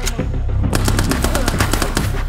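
Rapid automatic gunfire in the video game Ghosts of, a dense burst of close, loud shots in quick rhythm lasting the whole moment with no talk over it.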